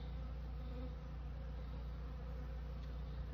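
A honeybee swarm making orientation flights outside a hive in a home yard, a dense continuous buzzing of many bees close by, steady and unbroken.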